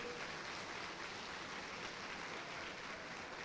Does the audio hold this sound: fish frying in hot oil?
no